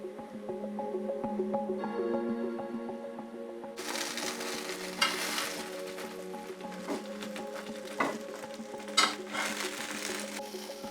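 Jackfruit quesadilla frying in a pan with a quiet, steady sizzle under a faint background hum, broken by a few soft crackles and scraping bumps.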